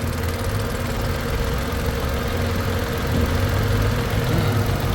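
A Mitsubishi Mirage G4 engine idles roughly with a vibrating, unsteady drone and a low knocking rumble, close and constant throughout with no talking.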